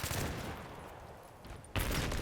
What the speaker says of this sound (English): I shoot his Claymore